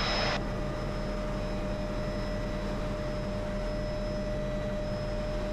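An MD500 helicopter in flight over Puerto Rico gives a continuous loud engine and rotor drone with a steady whine, heard from inside the cabin at a constant level.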